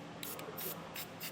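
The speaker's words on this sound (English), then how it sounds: "we're gonna hit it with a little bit of clear coat so that it doesn't rust or corrode over time" Clear coat is sprayed onto exposed metal bolts under a 2019 Nissan Rogue Sport during a trailer hitch install, heard as four short, soft hissing bursts from an aerosol can with brief pauses between them.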